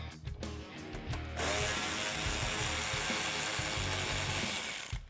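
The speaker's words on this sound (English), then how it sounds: "now I'm going to use my 7mm socket again to remove this screw here in the corner" A 7mm socket ratchet turns a screw out of the rear diffuser on a 2018-2021 Mustang GT500-style setup, with a few clicks and then a steady, fast ratcheting whir close by.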